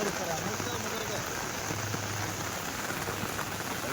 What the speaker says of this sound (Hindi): बारिश के साथ हवाएं भी चल रही हैं